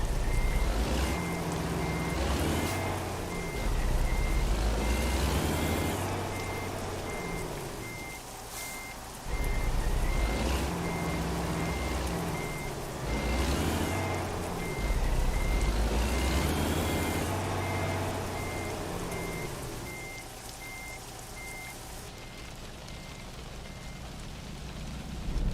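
Steady truck engine rumble in a video game with a repeating reversing beep and intermittent rain-like hiss and air-brake whooshes, fairly loud and continuous, no talking.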